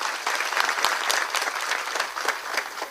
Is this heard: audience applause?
yes